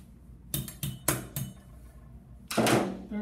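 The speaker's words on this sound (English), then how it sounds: "And maybe a hammer." Several sharp metallic taps from a hammer striking a steel surgical implant instrument on a Trident SI fusion tray, in uneven bursts with a heavier ringing strike near the end, close and alone.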